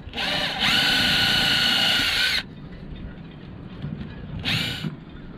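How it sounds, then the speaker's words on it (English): A power drill drilling pilot holes on a yacht roof whirs loudly for about two seconds after a brief start, falls quiet, then gives one more short burst. "Drill some pilot holes for the first layer of glass."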